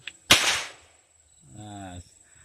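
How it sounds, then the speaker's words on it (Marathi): A single sharp toy cap gun pop, loud and close, fired outdoors among trees, followed after a pause by a brief buzzing tone. "हा जो बंदुकीचा आवाज आहे ना मित्रांनो हे कॅप लावल्यावरती"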